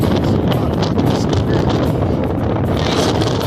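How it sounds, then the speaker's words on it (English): Strong wind roars steadily across the microphone on a high mountain pass along the Continental Divide Trail near Elwood Pass, a loud, unbroken rush with no pauses. "the wind is blowing so hard"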